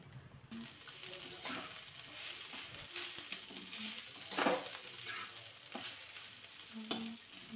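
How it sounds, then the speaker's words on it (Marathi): Chopped capsicum and mixed vegetables sauté over a low flame in a pan, making a steady sizzle with repeated spatula scrapes and stirring clatter throughout. No one speaks. "थोडा वेळ हे चांगलं परतून घ्यायचं आहे"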